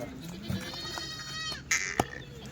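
A Kathiawadi goat gives a long, clear wavering bleat nearby, followed by a couple of brief sharper calls over low background chatter.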